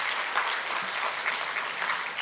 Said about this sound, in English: Can we get another big round of applause for Rathi, please?